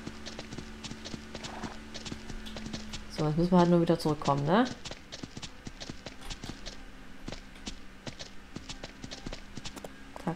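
Horse hooves walking in the Ranch Simulator video game, a steady clip-clop of regular footfalls at close range, continuing under a voice speaking German.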